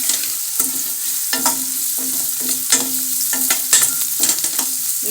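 Curry leaves fry in hot oil in a pan with a steady, bright sizzle, broken by close scraping stirs and light utensil taps against the pan.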